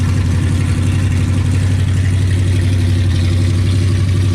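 A hot rod engine with side-exit exhaust idles loudly and steadily nearby, its deep throaty rumble pulsing evenly with no revving and no voices.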